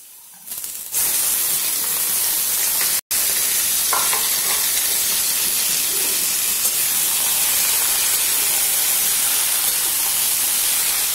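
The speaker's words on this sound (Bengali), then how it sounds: "পেঁয়াজটা মোটামুটি ভাজা হয়ে গেছে, এবার আমরা চিকেনটা ঢেলে দেব।" Chicken tipped into onions already frying in a pan for minced meat with peas sets off a loud, steady sizzle and steamy hiss that begins abruptly and carries on without a break, with no voices over it.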